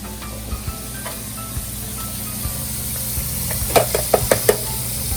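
Soft wet thuds and slides as canned black beans drop into a colander, ending in a cluster of louder clunks and splats, close and without talk.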